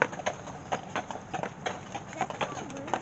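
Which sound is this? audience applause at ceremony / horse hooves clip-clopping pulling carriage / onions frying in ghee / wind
horse hooves clip-clopping pulling carriage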